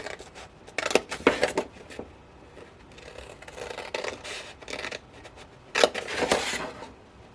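Scissors cut paper sections for a gift bag, producing close, repeated crisp snips and rustling paper in uneven clusters, fairly loud with brief pauses between cuts.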